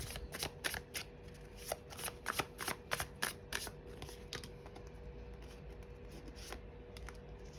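Tarot cards being shuffled and drawn by hand, a run of crisp riffling snaps and soft slides that comes in bursts close to the mic, with no voices.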